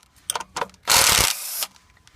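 A Makita 12V cordless impact driver removes bolts, with a few short mechanical clicks followed by one loud, continuous hammering burst of under a second that drops briefly in pitch before stopping.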